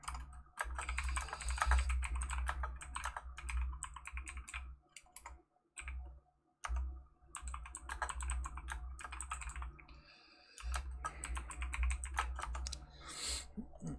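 Computer keyboard typing, rapid bursts of light clicking keystrokes close by, with brief pauses between flurries and a low steady hum underneath.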